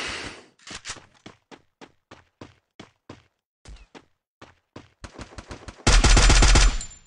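KM8 machine gun firing in a multiplayer shooter video game: a sequence of sharp, separate shots in a steady rhythm, then faster bursts, ending in a loud, continuous roar of sustained automatic fire.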